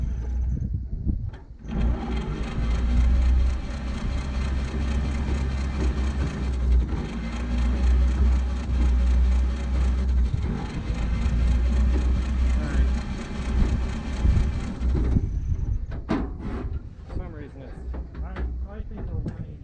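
A 1947 GMC EC303 truck engine cranking over steadily for about fifteen seconds with rough, uneven firing and pops back through the carburetor, loud and close, then stopping, with a few short knocks and voices afterward.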